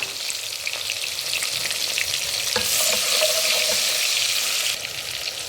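Onion frying in oil in a pan, an even close hiss and crackle that swells louder midway, then eases back slightly, with no voices.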